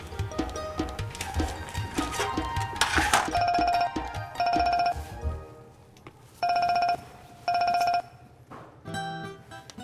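An outgoing phone call rings: a bright electronic ringback tone sounds in four evenly spaced bursts after a stretch of clattering background noise, with a short final blip at the end.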